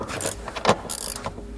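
A hand tool loosens the subwoofer screws inside a Mercedes C-Class W206, giving short close ratcheting clicks and mechanical rattles in a few quick bursts with brief pauses between them.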